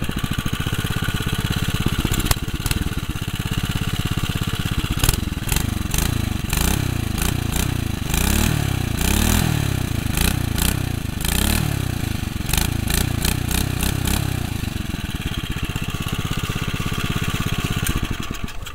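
A lawn mower engine runs steadily and smoothly for a long stretch, its chugging rhythm loud and close, with no one speaking.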